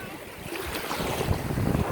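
Sea waves wash in at a beach in Cha-am, Thailand, a steady, rough wash of surf mixed with wind buffeting the microphone throughout.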